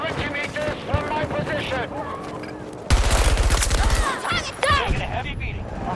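Falck MTAR-21 rifle fired in the Flashpoint video game, a rapid automatic burst of loud close shots in the middle, with shouted voices and other battle sounds around it.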